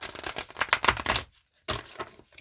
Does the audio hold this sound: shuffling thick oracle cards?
yes